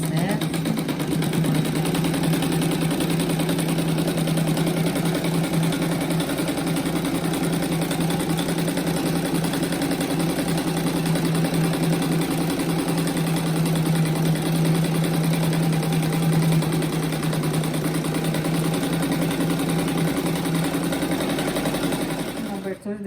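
Sewing machine running a steady, continuous stitch through fabric with a backstitch at the start, a constant mechanical whir with a low hum, close and loud, with no pauses.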